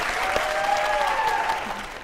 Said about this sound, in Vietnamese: Một tràng vỗ tay cho mẹ Quế